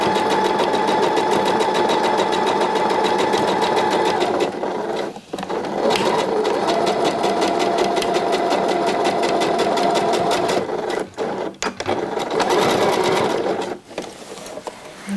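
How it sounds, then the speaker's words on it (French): A sewing machine running a zigzag seam on a swimsuit, droning loud and steady for long stretches with a few short pauses and restarts. "sinon il faudra faire une couture en zigzag"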